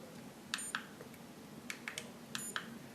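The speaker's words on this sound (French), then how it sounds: "En fait, j'ai un bip, mais je peux l'enlever." A GoPro HD camera giving short electronic beeps, a few quick pairs of faint high chirps over a quiet room background.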